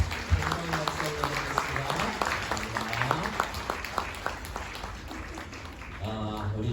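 Applause for the Lord rises through an Easter church service, steady clapping from the congregation running throughout, with a voice speaking over it and brief music near the end.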